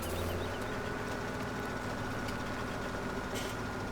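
Small Ursus tractor engine in the farming game Farming Simulator 2017, a steady, droning idle rumble that holds even and loud throughout, with no talk.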